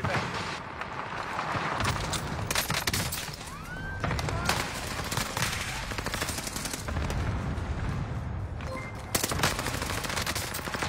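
Video game gunfire rattles in rapid automatic bursts and single shots throughout, loud and close, with a sweeping tone and other game effects, while players talk over it.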